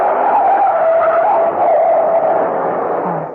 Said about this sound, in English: Farrar, look out! That truck!